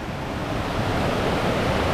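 A river at a waterfall in Agua Caliente, Chalatenango, El Salvador, gives a steady, dense rush of water noise that fills the whole moment, loud and unbroken, with no voices.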